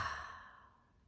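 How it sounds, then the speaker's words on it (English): A single deep exhale during a guided breathing exercise, a soft close breathy sigh that fades out over about a second. "And I'd like you to deliberately breathe in with me and out."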